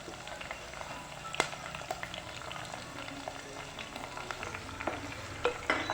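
Ginger, garlic and curry leaves sauté in a pan for passion fruit pickle, a continuous close sizzle with occasional sharp clinks of a utensil against the pan, no talking.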